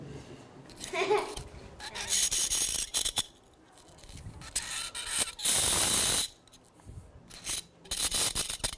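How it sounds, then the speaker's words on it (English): A chunk of dry ice, frozen carbon dioxide, pressed between two metal spoons: bursts of harsh squealing and screeching metal vibration, several loud spells broken by quieter gaps, close up. "I'm going to take my chunk of frozen carbon dioxide, stick it into one spoon, take the other spoon, put it on top."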